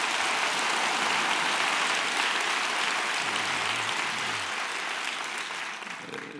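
A church congregation applauds together at an early-morning prayer service, a steady, dense wash of clapping that fills the space and tapers slightly near the end, with no voices over it.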